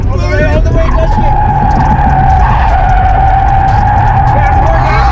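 BMW 530i E34 drifting at an amateur drift event, tyres skidding loudly in a sustained squeal over a roaring engine, close up, with people talking over it.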